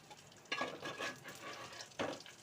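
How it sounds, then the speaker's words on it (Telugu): Fish pieces sizzle quietly in a frying pan, with a few soft stirring or turning clinks over a faint crackle. "రెండు వైపులా ఫ్రై చేసుకొని తీసుకోవాలి."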